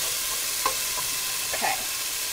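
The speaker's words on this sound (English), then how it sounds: "I like to let the onions cook for a little while first so that they have a chance to get soft, because the garlic cooks up quicker." Onions and garlic frying in a pan with a soft, steady sizzle under a hiss, broken by a few faint stirring scrapes, close and quiet.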